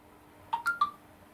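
A phone's text message alert sounds as three short, clear electronic beeps in quick succession, close and alone over a quiet background.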